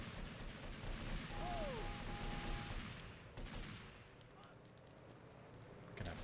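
Dense gunfire in GTA Vice City, a steady roar of overlapping shots for about three seconds that then thins into quieter, scattered background fire, with a voice speaking over it.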